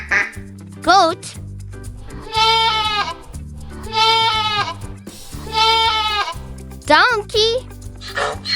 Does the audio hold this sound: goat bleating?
yes